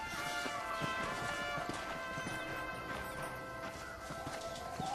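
Horse hooves gallop steadily through the video game Red Dead Redemption, a continuous rhythmic clatter set against a dense layer of game music and ambience.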